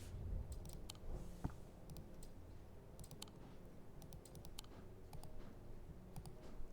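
Sharp mouse left-clicks in an irregular series, some grouped in quick doubles, heard up close over a low steady background hum while an antiquities game is played on a computer.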